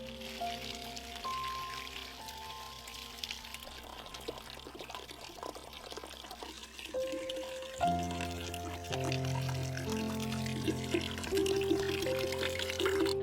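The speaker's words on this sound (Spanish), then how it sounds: "La vertió en el dispositivo de filtrado." Stream water poured by hand into a homemade charcoal filtering device at a forest shelter, a trickling, gurgling flow in uneven bursts, with a fuller, steadier pour in the second half.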